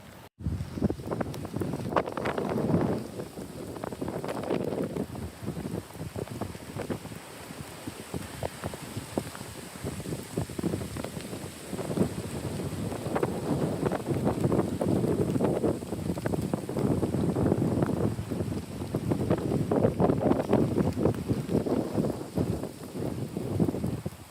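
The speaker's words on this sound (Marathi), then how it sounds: "वारा घोंगावतो आहे नुसता." Strong storm wind howls across an exposed campsite, a loud, continuous, gusting roar that swells and eases over the whole stretch, with no voices.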